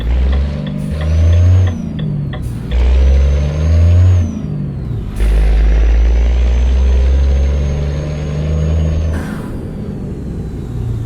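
Renault truck engine fitted with an open-pipe exhaust sound mod in Euro Truck Simulator 2, rumbling loudly and deeply, surging in repeated revs and gear changes with a steady drone between pulls and a faint whine on top.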